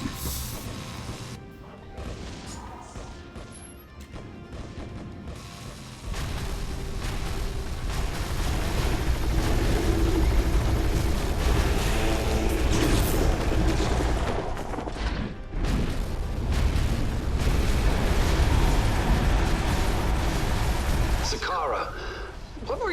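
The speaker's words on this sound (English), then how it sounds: "Yes, a cannon." A cannon tower fires in the video game Defense Grid 2, heavy booming blasts and crashing impacts rolling on through a dense, loud battle din, with speech mixed in.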